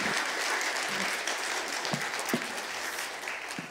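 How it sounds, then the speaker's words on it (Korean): A church congregation claps in welcome for the pastor, a steady wash of applause from a moderate-sized crowd, heard at some distance and fairly quiet throughout. "여러분들 우리 큰 박수로 한번 환영해 주시면 감사하겠습니다"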